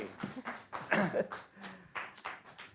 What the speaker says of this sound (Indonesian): Tepuk tangan untuk Baby Faye